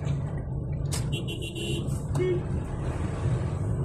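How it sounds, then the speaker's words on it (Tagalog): Heavy road traffic in rain on the way to Cainta, with a steady rumble of cars, buses and trucks, a hiss of water and a brief air-brake-like burst, heard nearby and without speech. "Magdalawang oras na ako dito mga katrops sa sobrang traffic."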